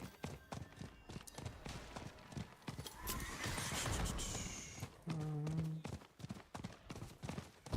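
A horse in the video game Diablo 4 is summoned with a loud whinny, then its hooves clip-clop in a fast, regular galloping rhythm up close, with a brief burst of game effects midway.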